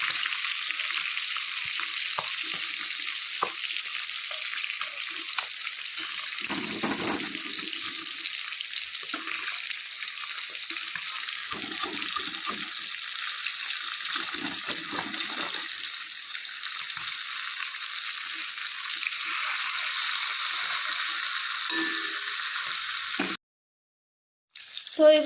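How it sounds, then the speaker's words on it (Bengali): Fish pieces, one side already browned, fry in a pan of hot oil, giving a steady, bright crackling hiss that runs unbroken and close for the whole stretch before a brief cut near the end, with no talking. "তো মাছগুলোকে এখন আমি উল্টে দিচ্ছি। এক পাশ ভাজা হয়ে গেছে।"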